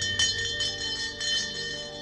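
A bell rings twice in clear, sustained tones with a long shimmering decay, fairly quiet and alone with no talking.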